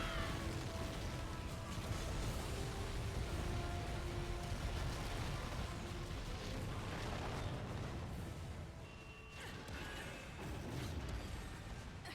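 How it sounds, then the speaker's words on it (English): Explosions from the Bayonetta 2 video game, a dense, continuous barrage of booming, rumbling blasts and mechanical clatter that stays loud throughout, easing briefly near the end, with no talking over it. "You can actually get hit by these explosions every once in a while, which is a one-shot."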